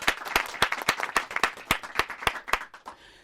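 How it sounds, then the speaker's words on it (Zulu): An audience applauds Mr Nyuswa at a youth dialogue gathering, a lively patter of hand claps that keeps up for about three seconds and then thins out at the end. "Mr Nyuswa simuphe likhulu ihlombe thina."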